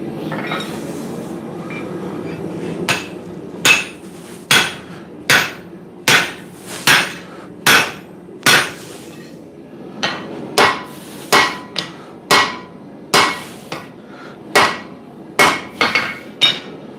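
A blacksmith hammers hot steel while drawing out the peen of a hammer, about twenty sharp ringing blows in a steady, fairly quick rhythm that starts after a few seconds of quieter forge noise.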